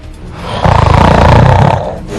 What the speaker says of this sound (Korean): 못 견디기 힘든 코골이.